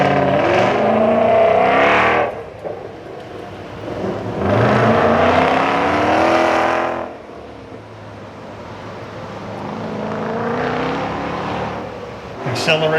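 A Ford race car at the Carlisle Ford Nationals accelerates hard on a track, engine revving loud in bursts that rise and fade as it passes, with a gap of quieter running between the roars while a commentator talks over it.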